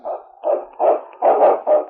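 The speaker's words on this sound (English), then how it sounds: "It's Yukon King, swiftest and strongest lead dog of the Northwest" Lead sled dog barking in an old-time radio adventure set on the Yukon trail of the Northwest, five loud, close, evenly spaced barks and yelps in a steady rhythm with no talk over them.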